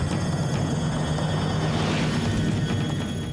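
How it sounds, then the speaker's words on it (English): Air Canada Flight 143, a 95-ton jet airliner, glides down toward Gimli with its engines out, heard as a steady, loud, broadband rushing roar with no voices. "They're at the controls of a 95-ton jet that's quickly falling from the sky."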